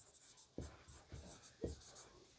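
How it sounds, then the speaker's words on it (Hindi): Chalk or marker writing out an example on a classroom board, three distinct scratchy strokes at an even pace, faint and close, with no talk over them. "एक एग्जाम्पल लिख रहा हूँ"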